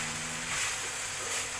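Chicken liver, gizzard and heart sisig sizzling and being stirred in a pan, a steady loud hiss of frying with faint scraping of the stirring utensil throughout.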